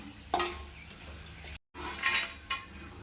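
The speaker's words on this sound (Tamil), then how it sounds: "இப்போ இதை எடுத்து ஒரு பாத்திரத்தில் வச்சுக்கிட்டு பூண்டு இதில் போட்டு வதக்கிக்கலாம்" Garlic sautéed in a pan with pirandai, a quiet sizzle broken by a few utensil clinks and scrapes, with a brief gap of silence partway through.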